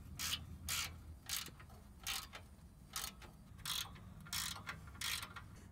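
Ratchet wrench tightening a 14 mm oil pan bolt on a Honda Ridgeline, about seven or eight quick clicking strokes in a steady rhythm, close and quiet, with no talk.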